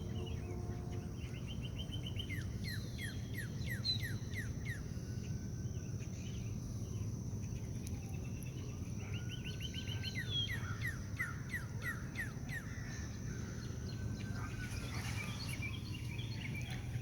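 Birds near a bird feeder chirp in quick descending trills that repeat several times, moderately close, over a constant background of crickets and low rumble, with no talking.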